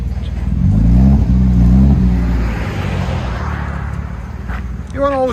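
A 1995 BMW 325i inline-six with a DC Sport stainless steel muffler revs loudly up close, a deep, steady engine drone holding for a couple of seconds before easing off, with a voice briefly heard near the end.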